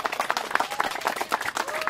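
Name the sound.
applause for the contest participants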